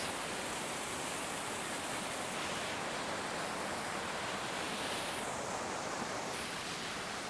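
Rushing waterfall in Wales, a steady broadband roar of falling water that holds constant for the whole stretch, fairly loud, with no voices.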